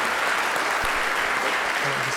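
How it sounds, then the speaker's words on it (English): An audience applauds at an event honoring two people, a dense, steady wash of clapping hands that holds at an even level from start to finish. "let's get a big round of applause for Charles and Andrew"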